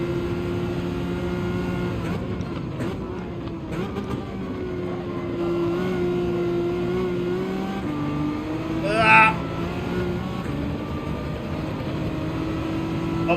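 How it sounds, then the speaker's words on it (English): A Citroen race car in Gran Turismo 7 at the Kyoto track accelerates in a rival's slipstream, its engine droning steadily and loud throughout, with a brief higher whine near the end. "The Citroen really accelerates under the slip."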